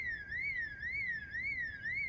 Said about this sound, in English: I peered into the window and noticed there was an alarm.